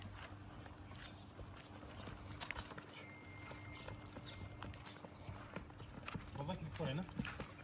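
A three-year-old colt being walked, its hooves clip-clopping in a soft, uneven rhythm. The steps are faint and sit under steady nearby talking.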